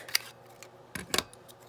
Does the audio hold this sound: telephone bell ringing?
no